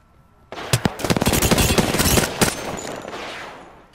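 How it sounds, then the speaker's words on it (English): Loud rapid bursts of video-game gunfire aimed at the player, sharp cracking machine-gun shots starting after a brief quiet moment, then a dense sustained volley that trails off near the end. "They're shooting at you."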